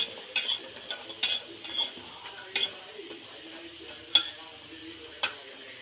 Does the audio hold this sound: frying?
yes